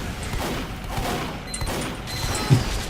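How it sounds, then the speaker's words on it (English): Rapid gunfire from the Upherds video game crackles in quick bursts with a sharper crack near the end, loud and close over a busy background of battle noise. "he was shooting a lot of revolver rounds"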